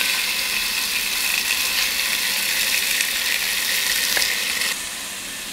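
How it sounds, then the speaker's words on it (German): Chunks of chicken sear in hot oil inside a Dutch oven, a dense, loud, continuous sizzle with no talking, easing slightly in the last moment. "Jetzt werden wir uns erstmal unser Hähnchenfleisch nehmen und das portionsweise anbraten."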